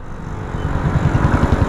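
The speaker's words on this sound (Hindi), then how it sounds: "क्या आवाज़ आ रहा है गाड़ी का, सुपर बाइक की तरह" A motorbike engine rumbles steadily close by, its low throb building and pulsing a little louder toward the end, with no talking.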